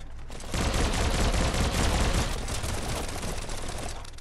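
Sustained rapid gunfire from a weapon in the video game Biomutant, a dense, loud burst lasting a few seconds before trailing off, with no talk.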